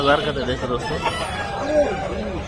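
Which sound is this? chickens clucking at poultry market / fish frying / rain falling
chickens clucking at poultry market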